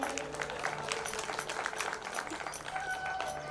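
Audience clapping at a devotional musical katha recital on the Narmada, a dense, continuous patter of many hands, moderately loud and steady throughout with a faint tonal hum underneath.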